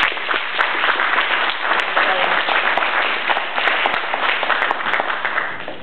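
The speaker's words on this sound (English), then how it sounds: "Let's give all a round of applause for being here." A crowd at a Maryland Chamber of Commerce evening event breaks into a round of applause, a loud, steady wash of many hands clapping together for the full stretch.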